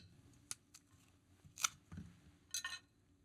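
A knife slices through an apple in a quiet room, three or four brief crisp cutting crunches spaced over a few seconds against near silence.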